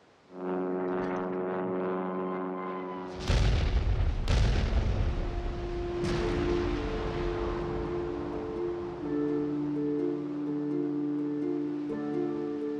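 A newly invented 2,000-pound bomb explodes on a captured German battleship in a deep, loud blast, followed by two more booming impacts over a steady orchestral music bed.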